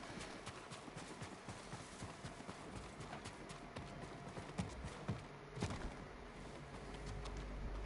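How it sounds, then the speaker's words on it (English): Horse hooves clip-clop at a run in Ghost of Tsushima, a steady patter of hoofbeats through game ambience, with a few louder thuds toward the end. "How's that horse running away then?"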